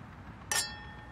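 Drinking glasses of peach blossom wine clink once in a toast between two people, a single bright, close chime with a brief ringing decay over a quiet room.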